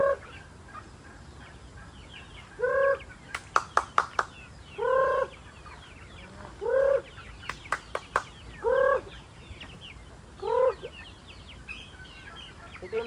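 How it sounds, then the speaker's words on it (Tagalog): Crossbred chickens about two to three months old cluck and call in repeated short bursts at a farm, with a few sharp clicking taps in between, fairly close and clear with no talking. "Ito yung mga ano natin, 2 months old, 3 months old na mga manok."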